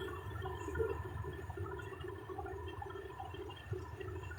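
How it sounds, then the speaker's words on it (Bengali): Water pours into a pan of simmering fish curry (small pool barb), a soft continuous wash of liquid close by under low kitchen hum, with no talking. "মাখা মাখা হয়ে গেলে এর মধ্যে আমি দিয়ে দিব পরিমাণ মতো জল"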